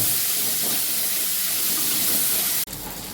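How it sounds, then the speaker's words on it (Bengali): Steady loud hiss of crab claws frying in hot oil, continuous and close, cutting off abruptly near the end. "হালকা করে তেলে একটু ভেজে নিচ্ছি"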